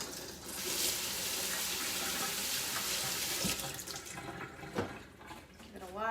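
A basting brush coated in teriyaki seasoning is rinsed under a running kitchen tap: a steady rushing stream of water splashes close by, with brief clatters and a fuller gush near the end.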